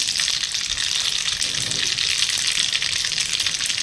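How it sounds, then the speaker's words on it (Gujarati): A large spoonful of mustard seeds sizzling in hot oil for khandvi tempering, a loud, close, continuous hissing fry with a faint crackle throughout. "હવે તેલ થોડું ગરમ થાય એટલે આપણે તેમાં મોટી એક ચમચી જેટલી રાઈ ઉમેરી દઈશું"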